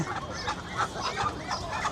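Ducks let out of their pen give repeated nearby quacking calls in irregular bursts over a constant background hiss.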